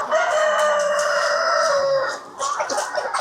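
Chickens on a free-range egg farm cluck and crow loudly and close by, a dense, continuous flock chatter with overlapping calls and no talk.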